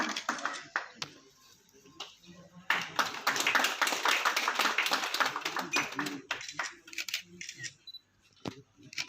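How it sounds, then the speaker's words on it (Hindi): An audience at a Jammu Printers Association felicitation ceremony applauds in a sustained burst mid-clip, with scattered claps and clicks, likely camera shutters, before and after. "आदर्शपाल सर जी आपकी खूबसूरत ताली के बीच साथ ही साथ मोमेंटो प्रदान किया जा रहा है।"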